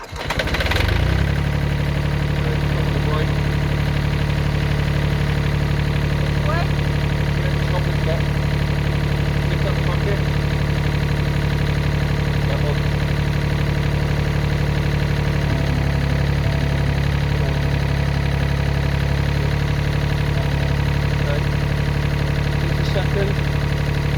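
A diesel tractor engine cranks and starts, then settles into a loud, steady low idle that carries on unchanged for over twenty seconds.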